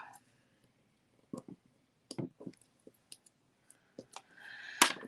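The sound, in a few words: peeling up rubber stamp from sheet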